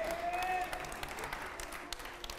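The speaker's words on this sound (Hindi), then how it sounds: "चलिए जोरदार तालियां हो जाए।" Studio audience at a Hindi television interview show breaking into applause, a dense, even wash of many hands clapping at moderate distance that holds steady throughout.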